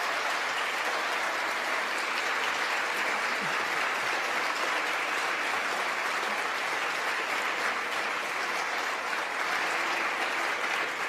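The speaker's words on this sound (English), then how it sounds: "We can applaud that. Let's hear it for women." Sustained, dense applause from a large crowd in a political chamber, cheering women in Congress, steady and unbroken for about eleven seconds with no talk over it.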